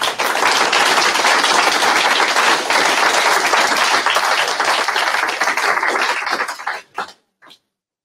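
A room of event attendees claps steadily in dense, loud applause for about seven seconds, then it thins out quickly and ends with a few last scattered claps.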